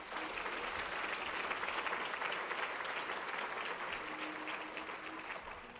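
Audience applause at a Daughters for Life luncheon in Sarasota, Florida: a steady, sustained wash of many hands clapping, even throughout and tapering slightly toward the end.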